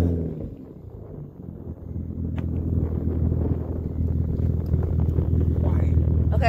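A Nissan 350Z running test pipes with no resonator or catalytic converters idles with a low, raspy, steady drone that swells slightly louder partway through, with wind buffeting the microphone.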